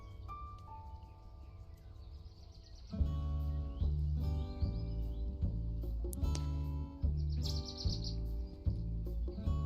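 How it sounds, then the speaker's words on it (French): Birdsong plays as background ambience during an indoor co-working session. Faint chirps and tweets sit behind a louder, steady tonal layer that starts partway through and carries on to the end. "Si jamais le son des oiseaux il est trop fort, vous me le dites"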